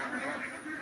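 Ducks quack continuously inside a duck-rearing shed on a farm, a dense overlapping chorus of many birds at moderate distance with no clear pauses.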